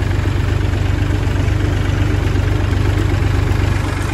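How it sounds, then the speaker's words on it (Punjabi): A combine harvester in a wheat field, running slowly, gives a loud, steady, throbbing engine drone that holds an even pulse throughout. "ਅਤੇ ਹੁਣ ਕੰਬਾਈਨ ਵੀ ਹੌਲੀ ਹੋ ਗਈ"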